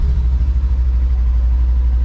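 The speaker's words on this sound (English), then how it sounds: "when you start it up, it sounds like the engine's right inside the cab with you." A Polaris General XP4's engine drones loud and close inside its fully enclosed cab, a steady low rumble with a fast regular throb and no voices.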